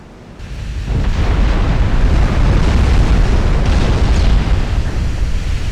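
A naval gun volley from dreadnought-era warships in the game Ultimate Admiral Dreadnoughts, a loud roaring blast that swells within the first second and then holds as a long, thick rumble, heard alone.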